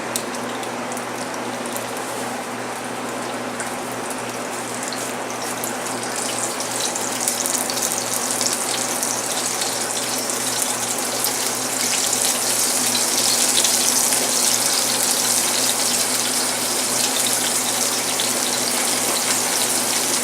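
Seasoned fillet of tropical fish, rubbed with salt, Cajun seasoning and garlic granules, searing flesh-side up in a hot pan: a steady close sizzle and hiss that swells louder partway through and holds, with no talking.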